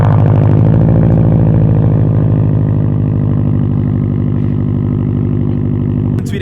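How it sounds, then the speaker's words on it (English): A Subaru STI with an aftermarket exhaust idles and rumbles loudly up close, a deep steady pulsing drone that holds throughout, with a brief shift in tone near the end. "just try and get some exhaust sounds so you guys can hear what they really sound like"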